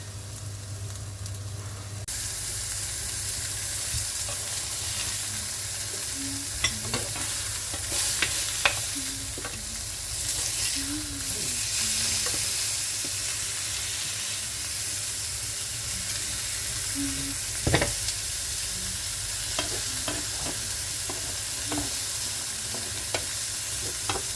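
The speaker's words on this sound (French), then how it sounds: "j'ai mis de l'huile, j'ai bien chauffé. Et j'ai mis, mes œufs et j'attends que ce soit une omelette" Eggs frying for an omelette in a pan of well-heated oil, a steady broad sizzle running throughout with occasional soft pops and spatters, no voices.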